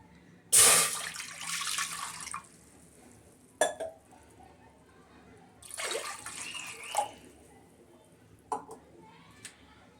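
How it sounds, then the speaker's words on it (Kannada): Water pours in a few short bursts into a pressure cooker for vegetable sambar, with quieter gaps and small clinks between them, close and fairly loud. "2 ಗ್ಲಾಸ್ ನೀರು ಹಾಕ್ತಾಯಿದ್ದೀನಿ"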